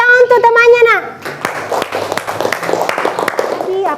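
Children in a primary school classroom break into applause for a classmate, a dense burst of many small hands clapping right after the teacher's voice, steady and fairly close until a voice rises at the end.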